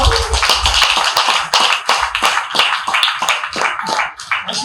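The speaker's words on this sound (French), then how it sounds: "Applaudissez pour vous montrer que vous allez bien." A comedy club audience applauds at the opening of a stand-up set, a burst of many hands clapping that dwindles to scattered claps, close and lively.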